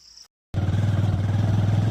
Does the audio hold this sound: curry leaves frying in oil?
no